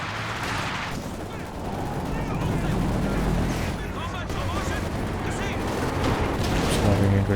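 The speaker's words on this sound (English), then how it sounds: "Firing a grenade, decent damage." Company of Heroes 2 battle with a grenade launched amid continuous machine-gun and rifle fire, booming impacts and clattering mechanisms, loud and busy under a commentator's voice.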